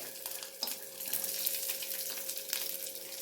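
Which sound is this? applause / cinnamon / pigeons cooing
cinnamon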